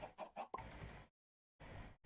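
Minecraft chickens clucking in short repeated bursts, three quick clucks then a denser run of squawking, followed by a pause and another brief burst, close and moderately loud.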